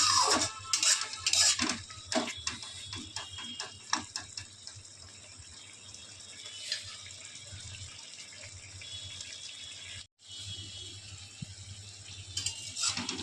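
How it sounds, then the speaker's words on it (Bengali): A jhinge paneer curry, made with ridge gourd and paneer, being stirred in a pan: a utensil clinks and scrapes against the metal repeatedly and close by, over a steady low hum. "আবার একটুখানি নেড়ে নিচ্ছি।"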